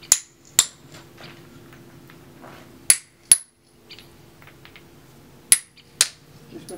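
Sharp metallic strikes of a one-kilo hammer on stone in a quarry, about six hard hits in pairs with quiet gaps, ringing briefly, faint murmur in between.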